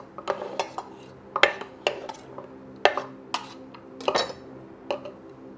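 Garlic slices being put into a container, heard as a series of close, sharp clinks and knocks of utensils and container, irregularly spaced and fairly loud, with no talk.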